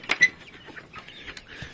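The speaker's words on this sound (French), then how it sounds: "j'ai des poules coucou de marrance" Cuckoo Marans hens cluck nearby in a backyard poultry flock, a few short bursts of clucking close to the listener against quiet surroundings.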